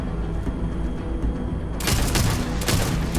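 Gunfire in the Starfield video game: sustained rumbling shots and booms that suddenly get louder and brighter partway through, with no talk.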